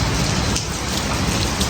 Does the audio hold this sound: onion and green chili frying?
no